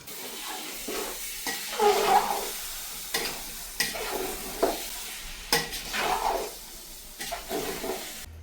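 Spices and sauce for a biryani-style dish frying in a pan, a soft sizzle broken by repeated stirring scrapes and clinks of a spoon against the pan, close and moderately loud, with no talking.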